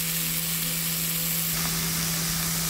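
Banana flower frying in a pan of hot oil with chopped green chilli, a steady close sizzle that hisses evenly throughout with no voices.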